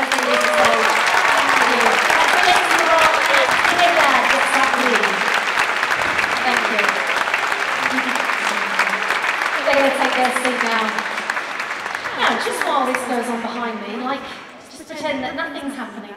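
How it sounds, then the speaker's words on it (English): A concert audience at Cadogan Hall applauds, a dense sustained wash of clapping that carries on for many seconds and thins out near the end, with voices talking over it. "Please give them a massive round of applause."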